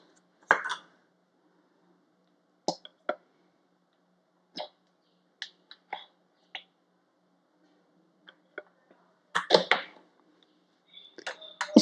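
A spoon clinks and scrapes in a bowl while mixing mustard oil with a spoonful of aloe vera gel, giving scattered short taps and clatters with quiet gaps between them and a louder burst of scraping near the end.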